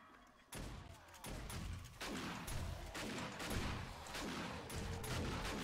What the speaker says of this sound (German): probiere jetzt auch mal Pumpgun